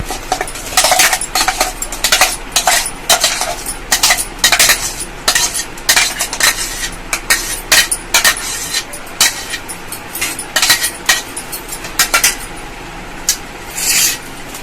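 A spoon scrapes mango paste into a bowl in a run of sharp, close metallic scrapes and clinks against the bowl, coming in quick irregular bursts with no talking.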